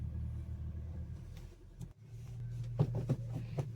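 A Honda car's engine hums low and steady as the vehicle is eased out of a parking spot, with a brief dip and then a few light knocks and clicks nearby.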